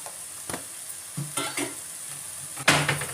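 A spoon stirs spices into vegetable biryani in a pan, with several scraping, clinking strokes against the metal over a soft sizzle, ending in one louder scrape.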